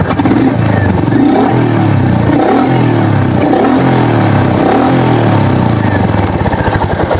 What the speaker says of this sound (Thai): หนึ่งสูบลูกโตเสียงมันจะเป็นยังไง